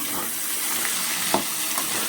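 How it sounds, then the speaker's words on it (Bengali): Diced potato cubes frying in a pan for a prawn and banana flower dish, giving a soft, steady sizzle with a faint scrape or two, close by and without speech. "এভাবে একটু ভেজে নিতে হবে আলুগুলো"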